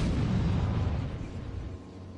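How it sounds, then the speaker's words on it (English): A grenade goes off in Batman Arkham City, one big deep blast that rolls into a fading rumble, close and loud with no voices. "Grenade!"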